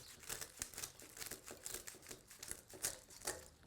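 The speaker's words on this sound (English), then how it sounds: "I'm cutting it a little bit oversized." Old scissors chew through tough craft material being cut slightly oversized for a bird feeder, a quick series of about nine crunchy snips in an uneven rhythm, close but quiet.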